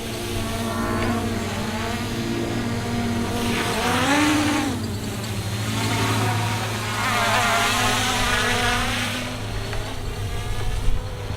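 A small Hubsan X4 H501S-S quadcopter drone's high, buzzing whine hovers steadily, its pitch rising and falling as it speeds up and slows down, with no voices.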